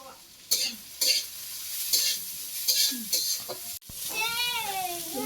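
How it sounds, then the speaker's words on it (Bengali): Meat stirred and fried in oil in a Bangladeshi home kitchen alongside mustard greens, with repeated scraping stirs over a steady close sizzle and a voice briefly audible. "তেলের মধ্যে নেড়ে চেড়ে একটু ভাজি করে নামিয়ে"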